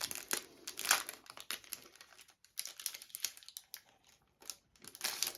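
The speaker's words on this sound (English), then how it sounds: "if you open the pack of cards here" Plastic wrapping on a pack of BattleTech Alpha Strike cards crinkles and crackles in close, irregular bursts, with a brief lull midway before the rustling resumes.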